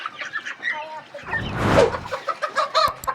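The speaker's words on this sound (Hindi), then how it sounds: "वो वाला व्हाइट वाला मुर्गा किधर गया" Chickens cluck in quick, repeated bursts nearby, with a short rustling flurry in the middle.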